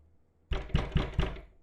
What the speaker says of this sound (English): the man knocks firmly on it several times